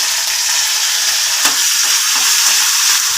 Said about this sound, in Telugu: స్లోలో పెట్టుకుని వేపుకుందామండి